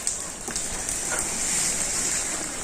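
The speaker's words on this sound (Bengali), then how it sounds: "বৃষ্টি পড়েও রোদ উঠছে না গো" Rain falls in a rural Bangladeshi village, a steady hiss of drops on surfaces that fills the whole span with faint scattered patters and no talking.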